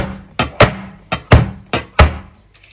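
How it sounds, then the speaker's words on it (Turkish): A cake pan filled with batter is knocked against a hard surface in a home kitchen, giving six sharp, close thuds in three quick pairs, with no voices. "Şöyle bir iki kere de yere vuralım."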